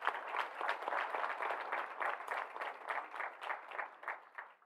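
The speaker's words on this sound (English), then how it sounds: "Pause for a huge applause." Applause from an audience at an announcement of a hospital acquisition in Bedford, Indiana: moderately distant, fairly steady clapping with a rhythmic pulse, running throughout.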